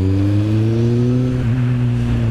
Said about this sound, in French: Oh, petite BMW bien sympathique.